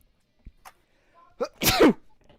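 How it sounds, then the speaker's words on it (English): A single loud sneeze bursts out near the microphone, preceded by a few short sharp inhales and small sounds, then fades into quiet. "I'm about to sneeze."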